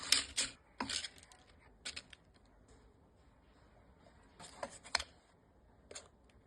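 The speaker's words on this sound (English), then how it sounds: "Lasagna sheets. Just break them up to fit." Dry lasagna sheets snapped by hand over a crock pot in a home kitchen, several crisp close cracks in irregular bursts with quiet gaps between.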